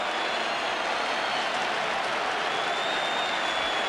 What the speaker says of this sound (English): Disappointed Brian McKechnie, the crowd boo.